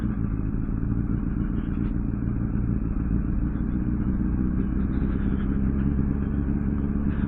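A motorcycle engine drones steadily and loudly while riding, a continuous close rumble with slight clatter under tree cover and no speech.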